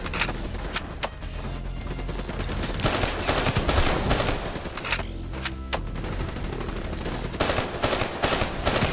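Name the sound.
gunfire from video game Call of Duty Black Ops 3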